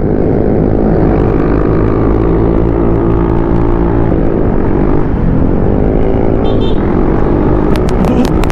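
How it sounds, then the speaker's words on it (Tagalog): Loud motorcycle engines passing close by on a road in San Nicolas, Pangasinan, a dense continuous roar with rising and falling pitch that dominates throughout. "Ang ingin na mga motor."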